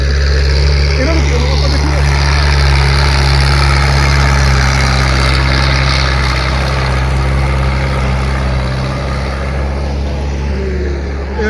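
A Kartar 5936 tractor engine runs in fourth gear with a loud, steady low diesel drone and rumble throughout, and voices talk over it.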